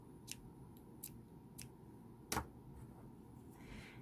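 Scissors snipping craft material for a Christmas gift-pouch keyring, several sharp, close cuts spaced about half a second apart with one louder snip, over a quiet room hum.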